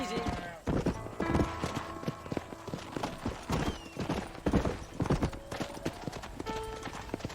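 Horse hooves clip-clopping in the video game Red Dead Redemption, a steady loud run of hoofbeats on ground mixed with game voices talking over them.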